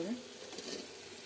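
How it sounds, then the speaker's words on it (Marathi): Onions sauté in a pan for masale bhat, giving a faint, soft sizzle with a brief scrape of stirring. "कांदा होतं चालू आहे बघा परतायला टाकला आहे कांदा"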